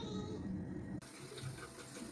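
A bathroom tap runs steadily while someone brushes their teeth, giving a continuous close splash of water into a sink that changes tone partway through.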